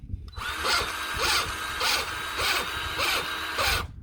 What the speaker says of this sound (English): Here we have a Milwaukee Grease gun, M18GG. It's going, it's greasing.